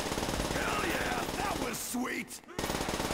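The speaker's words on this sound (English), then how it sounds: "No, it's the PPSH sound effect." Rapid automatic fire from a PPSh submachine gun in Call of Duty: World at War zombies, a dense continuous rattle of shots that cuts out briefly before resuming, with a voice speaking over it.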